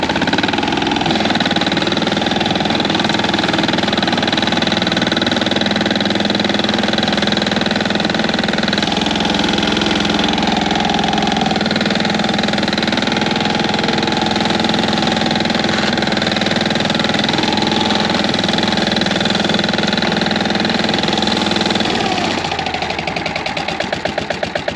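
A walk-behind tiller engine runs steadily and loudly up close for the whole stretch, a dense mechanical drone with faint knocking vibration, with its tone shifting slightly toward the end while the machine works previously tilled soil.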